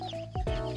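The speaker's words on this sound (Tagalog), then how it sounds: "So balik tayo dun sa sisiw. Okay na sa likod. So ito sila." Bounty gamefowl chicks make short, sharp peeps and chirps close by, loud and overlapping, alone without talk.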